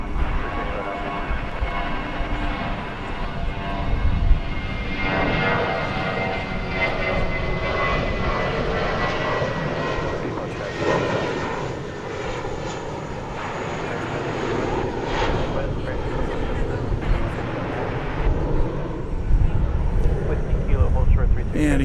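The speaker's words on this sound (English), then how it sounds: "that one was just barely in the air when the next plane got the clearance to take off" A jet airliner takes off from a DFW Airport runway, its engines a steady, loud roar that rumbles throughout with a low broadband rush, while people talk over it.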